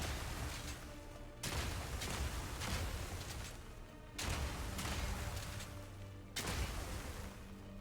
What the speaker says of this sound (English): So you fire one glacial wall, and then the next bolt will explode it.